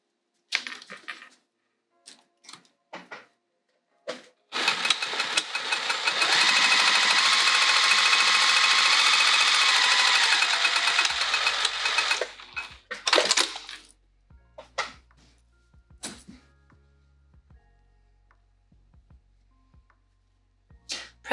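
A sewing machine stitches a pouch seam in one loud, continuous run of about eight seconds, set between scattered clicks, taps and handling noises close by, without talk.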